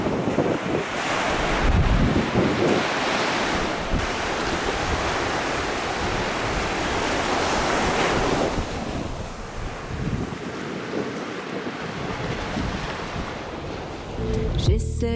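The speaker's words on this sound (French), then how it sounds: "le vent danse sur la Méditerranée" Wind gusting and Mediterranean waves washing ashore at Peniscola, a steady loud roar with heavy wind buffeting on the microphone and surging surf, no voices.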